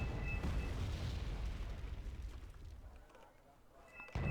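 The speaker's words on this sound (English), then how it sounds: "And another artillery strike comes in." Artillery strike explosions in the video game Wargame Red Dragon: a heavy, low rumbling boom that rolls on and slowly fades over several seconds, with a fresh thump at the very end.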